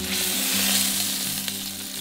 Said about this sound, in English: Then place into the oil, turning a few times until it's browned and sealed on all sides.